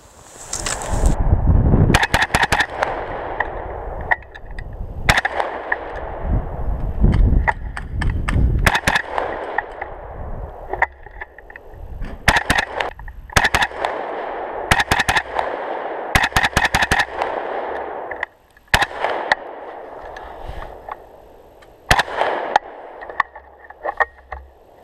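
Rapid shots from a Bravo Company Manufacturing lightweight AR rifle at an outdoor range, fired in quick strings and bursts with short pauses, loud and close, without talk.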